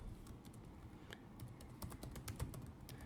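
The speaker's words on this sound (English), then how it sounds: "then type in your website." Fast, steady typing of a website address on a computer keyboard, dense quiet clicks running continuously for a few seconds with no voices.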